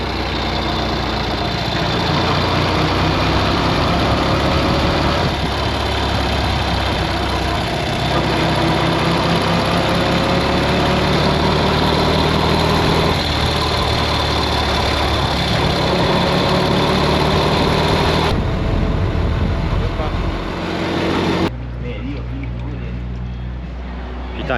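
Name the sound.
motorcycle engine idling with odd noise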